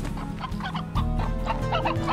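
Chickens clucking in the farm game Slime Rancher, a cluster of repeated clucks and short calls layered over a steady low hum, close and continuous.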